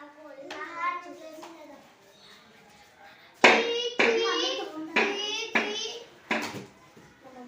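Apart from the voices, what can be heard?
children clapping loudly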